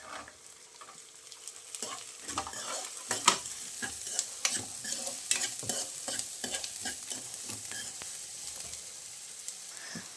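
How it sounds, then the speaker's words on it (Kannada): Carrots and beans stir-fried in a hot pan for a pasta dish, with a constant soft sizzle and frequent clattering stirs and scrapes, close up and without talk. "ಈಗ ಕ್ಯಾರೆಟ್ ಹಾಕ್ತಾ ಇದ್ದೀವಿ ಮತ್ತು ಬೀನ್ಸ್,"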